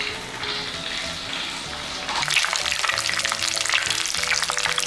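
Pechay with egg fries in a pan, a continuous close crackling sizzle that grows louder and busier as the pieces are turned over.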